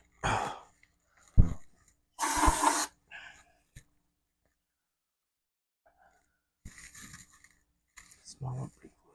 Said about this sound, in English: Just gonna spray down with some brake fluid.